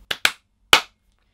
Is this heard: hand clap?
yes